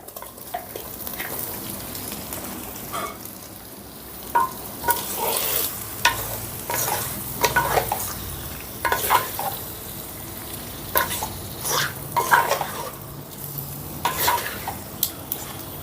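Washed chicken pieces tip into a hot frying pan and are stirred, with bursts of sizzling and scraping that rise and fall in uneven waves over a steady background fry, close up and without talk.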